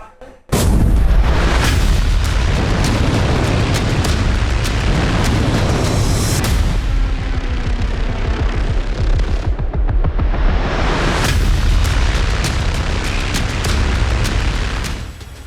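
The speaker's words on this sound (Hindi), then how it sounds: "हाईवे पर जबरदस्त धमाका हुआ और पाकिस्तानी फौज की गाड़ियां आग का गोला बन गई।" A powerful blast on a highway engulfs Pakistani army vehicles, a loud, sustained roar and crackle of explosion and fire that dominates nearly the whole stretch, dipping briefly midway before surging again.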